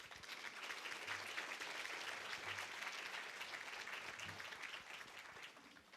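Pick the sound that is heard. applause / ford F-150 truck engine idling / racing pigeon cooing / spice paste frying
applause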